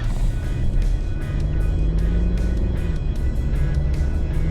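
Steady interior drone of a Mercedes-Benz E220d W213 diesel sedan on the move, low engine and road rumble continuous throughout with faint tyre and wind noise, no voices.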